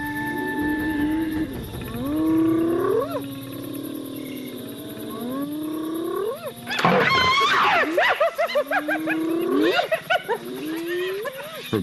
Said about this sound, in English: Her growl is stronger than she is.